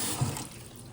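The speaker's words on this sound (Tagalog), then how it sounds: "So dito, kailangan natin muna hugasan ating chicken." Raw chicken is rinsed under a running kitchen tap while preparing a spicy Chinese chicken salad, giving a short, soft, steady splash of flowing water with no talking.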